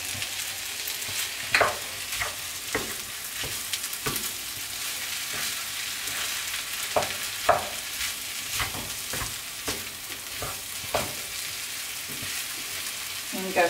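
Chopped vegetables for a samosa filling sizzle in a hot pan, with a constant frying hiss broken by repeated scrapes and clinks of a spoon stirring against the metal.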